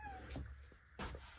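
A house cat meows a few times, short and fairly faint, with soft rustling in between and no one talking.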